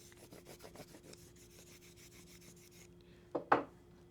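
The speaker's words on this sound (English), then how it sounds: "And then we're going to lightly strop the gouge, always keeping it at the right angle" A woodcarving gouge is lightly stropped on a leather strop loaded with jeweler's rouge or green micro paste during violin making. It makes soft, rhythmic rubbing strokes, then pauses briefly before two sharper scrapes near the end.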